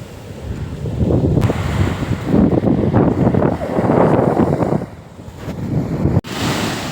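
Waves break and rush on Kappila beach in Kasaragod, loud and close with heavy wind buffeting the microphone, the surf swelling and easing in broad surges.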